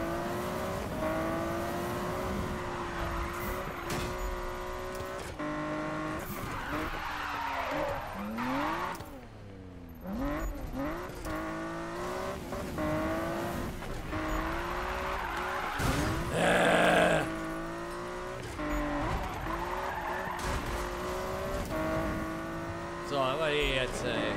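Car engine revving and tires skidding while driving in the Need for Speed racing game, with a Nissan Skyline GTR, loud and continuous with shifting engine pitch, while someone talks over it throughout.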